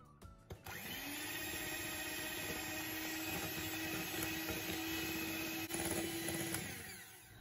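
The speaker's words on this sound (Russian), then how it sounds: "в другую емкость выбиваем 2 яйца и 120 грамм сахара. И хорошо взбиваем." An electric mixer whips two eggs with 120 grams of sugar in a bowl, a steady, loud motor whine holding one pitch for several seconds before switching off, with a brief clatter at the start.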